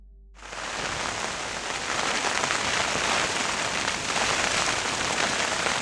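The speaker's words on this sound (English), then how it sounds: "bringing with it severe gales and torrential rain" Torrential rain pours down during a storm in France at a carp fishing lake, a dense steady hiss that starts abruptly and continues loud and unbroken.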